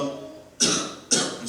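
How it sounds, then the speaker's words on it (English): Two short, sharp coughs close by, about half a second apart. "he's coughing."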